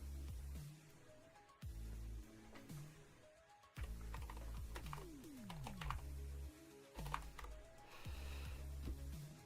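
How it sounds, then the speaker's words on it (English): Typing on a Corsair K55 non-mechanical membrane keyboard: soft, quick keystrokes in irregular bursts, close and fairly quiet, with a steady hum of other sounds underneath. "I got this one because I wanted to try a non-mechanical keyboard, and honestly, I've been liking it."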